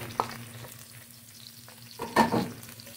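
Crushed garlic sizzles softly in a pan, with a quiet crackle and a brief stirring scrape partway through; no one speaks.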